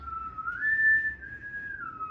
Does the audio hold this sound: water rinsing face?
no